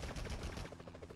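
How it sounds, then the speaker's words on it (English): Rapid gunfire from the original Spider-Man video game, a dense run of loud, repeating shots that rattles on without a break for about a second. "Enough with the shooting already."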